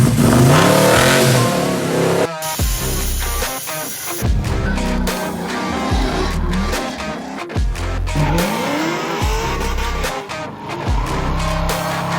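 A 1970 Chevelle revving hard, loud repeated engine bursts rising and falling with brief tire squeal, close and dominant with no talking.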